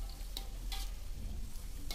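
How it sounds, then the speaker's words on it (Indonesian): Crispy pempek pieces sizzle steadily in hot frying oil while being stirred, with a few sharp scraping clicks from the stirring utensil over the constant fry. "harus diaduk-aduk kayak goreng kerupuk"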